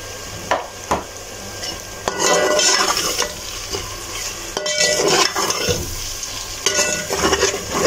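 Masala with turmeric and green chillies sizzles in a pan while a spoon scrapes and stirs it in repeated bursts, with occasional clinks against the pot close by.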